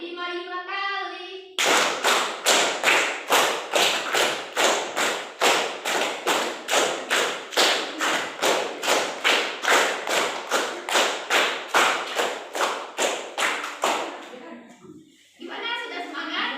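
A classroom of children claps hands in a fast, steady counted rhythm, dozens of loud, close claps in an unbroken run, with voices speaking before the clapping starts and after it ends.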